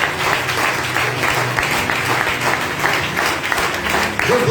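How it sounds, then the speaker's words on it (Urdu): A church congregation at a pastor's sermon applauds in sustained, dense clapping that fills the room, loud and continuous, with voices mixed faintly underneath. "یہ جو دور سے آتے ہیں ان کے لیے تالیاں بجائیے."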